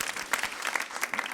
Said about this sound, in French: gens applaudissent à ce moment-là